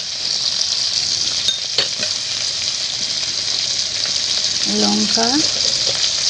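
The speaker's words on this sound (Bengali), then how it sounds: "হলুদ দিয়ে খুব ভালো করে আমি এগুলোকে কষে নেব ভালো করে, যতক্ষণ না টমেটোগুলো গলে যায় ততক্ষণ কষতে থাকবো" Tomatoes with salt and turmeric sizzle in a pan for a nearly even, steady stretch, broken by spoon scrapes as they are stirred, and a voice speaks briefly near the end.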